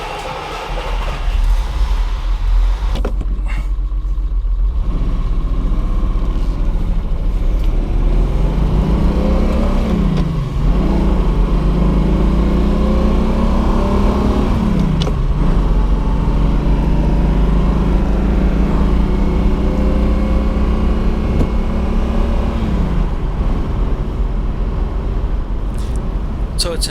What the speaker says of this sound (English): it gives you an idea how different exhaust systems can make an engine sound